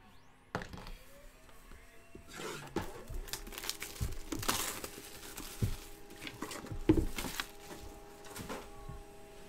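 Foil packs of 2016-17 Panini National Treasures collegiate basketball trading cards crinkle and tear open nearby in a quiet room, with sharp intermittent rips and rustles spread over several seconds.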